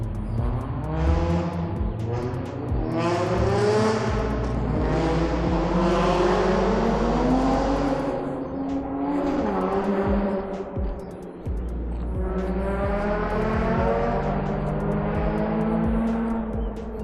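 A car drives by near the water, its engine rising and falling in pitch as it approaches, passes and recedes, with a second pass later. The sound is loud and close, with no talking over it.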